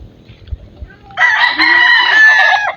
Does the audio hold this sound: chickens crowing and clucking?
yes